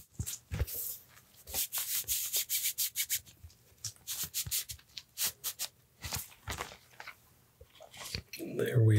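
Comic book slid into a plastic slipcover at close range, crisp rustling and rubbing strokes of plastic in quick bursts, with occasional taps and a brief thump near the end.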